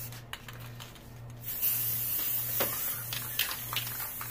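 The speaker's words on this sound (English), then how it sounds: "Okay, so now you're gonna go to your big planet and just kind of spray some on there." A steady hissing spray starts partway in and continues, with a low hum underneath and a few faint clicks.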